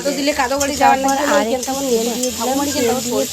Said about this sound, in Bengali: ভালো করে মশলা সহ প্রচুর লতিটাকে আমি ভালো করে ভেজে নেব